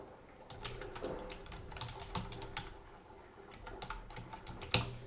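Fingers tap out a domain name on a computer keyboard in quick irregular bursts of light clicks, with a brief pause midway and a firmer keystroke near the end, close and moderately quiet.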